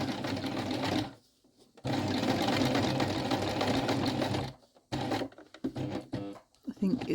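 A sewing machine topstitches around a bulky welt pocket on a coat, running in loud close bursts that stop briefly and start again, with a final stretch of short, uneven stitching.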